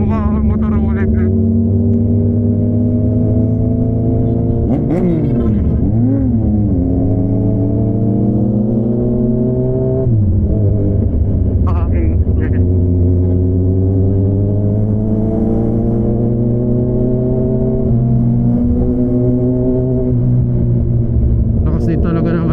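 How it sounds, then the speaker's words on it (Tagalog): A crossplane motorcycle engine revs steadily under heavy, continuous rumble, with rising and falling pitch sweeps around a few throttle blips, close and loud while a person talks over it on a ride near Tagaytay. "maganda rin pala ang tunog ng crossplane"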